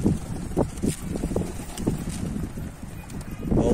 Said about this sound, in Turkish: Vallahi bu rüzgar çatıyı götürür cinsten.